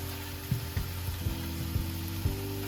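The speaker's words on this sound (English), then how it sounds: "I'm going to add the meat in now, season it, and we're going to cook that until it's brown" Ground beef seasoned with Italian herbs sizzles steadily in a pan, with a low hum behind it and a few soft knocks as the meat is stirred and broken up.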